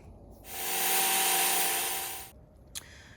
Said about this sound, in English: So we're gonna start the drilling process now.